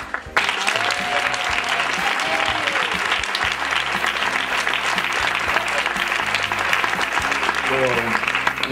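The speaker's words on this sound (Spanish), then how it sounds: "el verdadero aplauso va para todas aquellas personas" Dinner guests at a 35th anniversary celebration clap together for several seconds, with a close, busy patter of hands and voices chattering underneath throughout.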